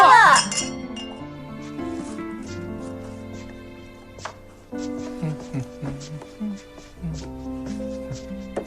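Glasses clink together sharply at the start of a family birthday toast, followed by a few lighter clinks over soft background music and voices.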